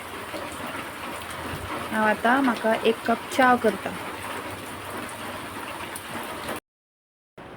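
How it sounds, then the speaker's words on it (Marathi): Steady rain falls nearby, a constant hiss that carries on throughout. Someone talks over it briefly partway through. "सा थंड पावस पडटा बरो"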